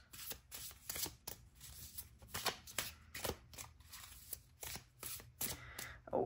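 Tarot cards are shuffled and drawn, a close, quiet series of papery riffles, flicks and soft slaps in irregular bursts, with no talking.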